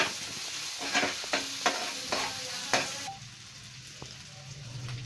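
Grated ginger, garlic and chopped onion sauté in a pan with a soft, faint sizzle and a few spoon scrapes in the first half, then quieter frying.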